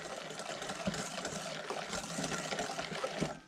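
Hot heavy cream being stirred a little at a time into eggs for crème brûlée, giving a steady close wet swishing and clinking with faint liquid trickling throughout.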